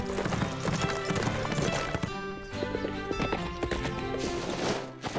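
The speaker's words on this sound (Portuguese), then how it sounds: "Ótima cavalgada, Azteca" Horse hooves clip-clop steadily through a cartoon riding scene, with a whinny at times, all heard under a continuous music score and no talking.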